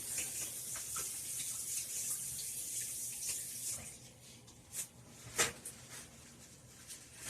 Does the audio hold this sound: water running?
yes